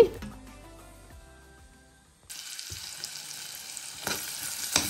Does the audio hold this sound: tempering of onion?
yes